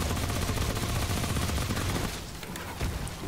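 Rapid magazine gunfire from the game Remnant: From the Ashes, a dense, steady volley of shots that runs for about two seconds before thinning into scattered quieter bursts.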